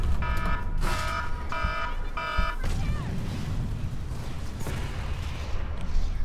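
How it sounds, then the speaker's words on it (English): An alarm in a video game match, repeated electronic tonal blasts in short pulses during the first few seconds, then broader noisy game sound continues beneath a talking voice. "Could hear the alarm."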